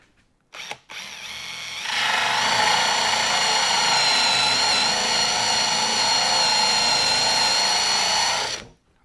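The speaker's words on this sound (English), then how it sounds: "this surprises people that you can use a Forstner bit freehand" A power drill runs a 3/4 inch Forstner bit freehand into wood, a steady loud whining grind lasting about seven seconds after a short start, then cutting off abruptly.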